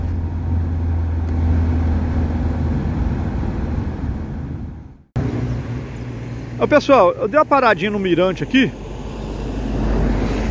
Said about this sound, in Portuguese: passando carro aqui, Mangaratiba